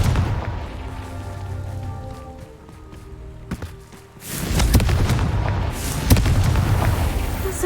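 A Confringo fire spell explodes in Hogwarts Legacy, a sudden loud booming burst that swells into a sustained roaring blast over a low rumbling game soundscape.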